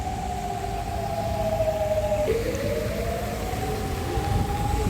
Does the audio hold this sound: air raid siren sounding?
yes